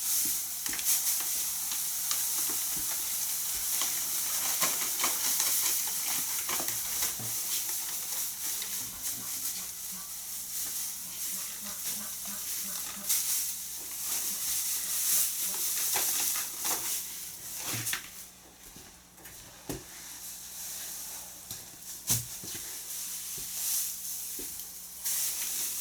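A bale of straw is handled and spread across a barn floor during cleaning, giving a steady dry rustling hiss with scattered crunches and rustles throughout, fairly faint and without voices.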